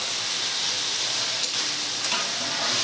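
Fried potatoes drop into a pan of sizzling crab curry masala, giving a steady, close hiss and frying crackle with no voices.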